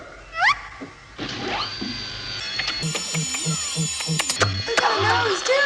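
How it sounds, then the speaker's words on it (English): An automatic floor cleaner robot moves with whirring, ratcheting mechanical gears, rhythmic clicks and beeps close by, with a brief voice at the start. "We call it our automatic floor cleaner."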